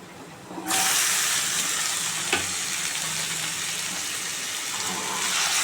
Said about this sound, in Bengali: এবার আমি মেখে রাখা মাংসটা দিয়ে দেবো।